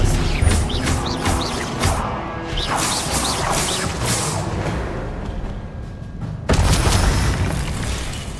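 A spell cast in the video game Hogwarts Legacy gives a loud magical whoosh and impact crash amid busy game effects and music, with repeated bursts and a sharp new hit near the end.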